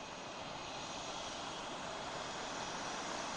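Steady, loud jet engine roar from a jet aircraft taxiing back after a sortie, a continuous broadband rush with no voices.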